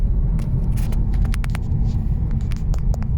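From inside a Jaguar car with the windows and roof closed and the air conditioning running, a steady, loud low rumble of engine and road noise continues throughout, with faint light clicks and rattles above it.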